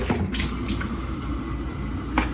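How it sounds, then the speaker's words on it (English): Tap water pours steadily over strawberries and blueberries in a strainer, a continuous close splashing rush that barely changes across the whole short stretch. "we're gonna rinse them off in the strainer."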